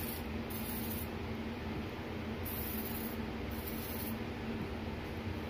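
Bursts of PB Blaster penetrating oil sprayed from a nearly empty aerosol can onto stuck engine bolts, three short hissing sprays over a low steady background hum.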